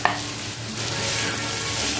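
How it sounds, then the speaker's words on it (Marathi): Bitter gourd with red chili powder stir-fried in a pan: a steady close sizzle with continuous stirring, opening with a brief clunk against the pan. "परतून घेते आता व्यवस्थित।"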